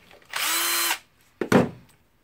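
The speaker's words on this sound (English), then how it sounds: "I will unscrew the carbon brush holder unit." A power tool unscrews the carbon brush holder unit of a Makita BTD146 impact driver during a repair. One close, sharp whirring burst of just over half a second is followed by a short clatter of handling.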